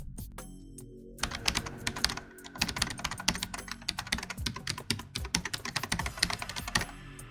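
Fingers type quickly on a computer keyboard close up, a clattering run of crisp key clicks in uneven bursts after a brief quiet start, with no talk.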